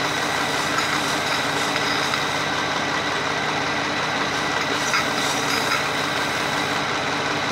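An engine runs steadily during water decarbonization, a constant loud idle with a heavy low rumble and a faint high whine throughout, no change in pace.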